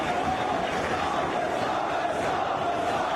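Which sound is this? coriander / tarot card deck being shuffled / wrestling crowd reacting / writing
wrestling crowd reacting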